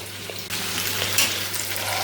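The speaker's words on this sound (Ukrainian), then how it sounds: "це м'ясо, воно дуже швидко смажиться" Meat sizzles and fries steadily in a pan with young onion, a dense continuous crackle with occasional stirring scrapes, close and moderately loud, no talking.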